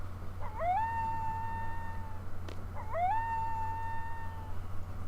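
A dog in the video game Final Fantasy VIII howls twice, each a long rising-then-held mournful note, over a low steady hum; the two howls are separated by a short pause.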